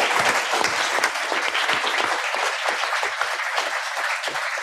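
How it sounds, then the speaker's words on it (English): Sustained applause from a lecture audience at a public talk on pancreatic cancer, steady dense clapping throughout with no speech over it. "So have a round of applause."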